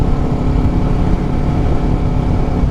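A motorcycle engine, a borrowed bike being ridden for wheelies, roars loud and close with a dense, steady rumble and slight revving swells across a short stretch, no talk over it.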